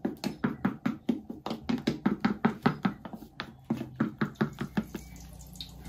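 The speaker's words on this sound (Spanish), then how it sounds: "que se bata bien la yemita" Rapid rhythmic whisking of egg yolk in a bowl, roughly a dozen sharp, evenly spaced taps in quick succession, close and fairly loud, with a short pause midway before the beating resumes, for battered stuffed jalapeño peppers with cheese.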